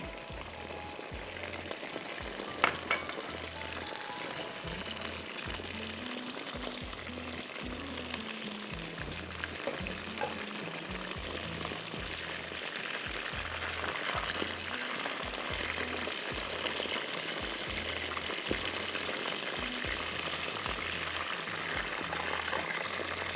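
Chicken pieces frying in oil until golden produce a steady, close crackling sizzle that carries on evenly, with a faint low rhythmic hum beneath it and no talk.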